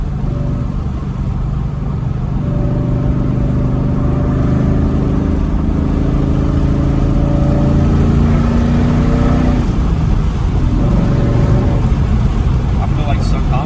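A Ford Mustang engine with a catback exhaust holds a loud, steady, droning rumble from inside the car throughout, with people talking over it.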